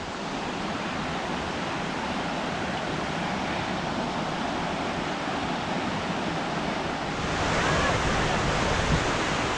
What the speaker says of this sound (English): So we made it to the falls.